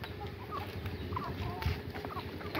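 Turkeys and peacocks call on a farm that also keeps a cow. Short, faint squawks and gobbling clucks come through a steady noisy background, with one brief louder call in the middle.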